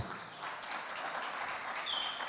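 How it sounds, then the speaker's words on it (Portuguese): A church congregation applauds together in a steady, moderately loud burst of clapping that holds at an even level from start to finish. "Dê um aplauso aí."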